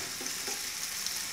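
Chopped onions fry in hot oil in a pan, a soft, steady sizzle heard briefly at close range with no voices.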